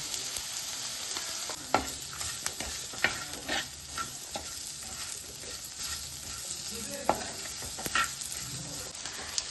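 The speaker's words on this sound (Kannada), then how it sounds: "ಇವಾಗ ಟೊಮೆಟೊ ಹಾಕಿ ಚೆನ್ನಾಗಿ ಮಿಕ್ಸ್ ಮಾಡಿ" Tomatoes stirred and mixed in a hot pan with salt and turmeric, sizzling steadily close up, with intermittent scrapes and clicks of a spoon against the pan, no talking.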